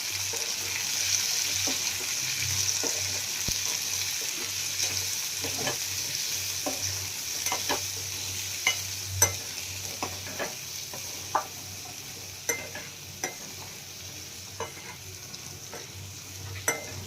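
A steady frying sizzle with intermittent scraping clicks of a spoon stirring red chilli powder and spices for a dried chickpea curry in a pan, growing sharper and more frequent toward the end.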